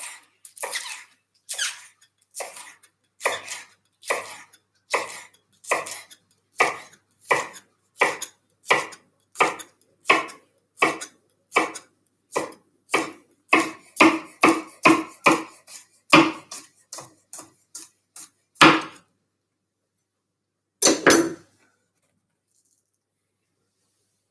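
Knife slicing through ginger or a similar root on a cutting board, a long steady series of crisp, evenly spaced cuts building in pace, then a pause and two final chops, close and clear with no talk.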